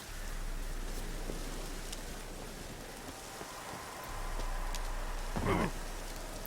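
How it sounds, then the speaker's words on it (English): Steady rain falls in The Witcher 3: Wild Hunt, a dense continuous patter of drops on surfaces, with faint distant rumbles and a brief louder sound near the end. "I would never guess it was raining."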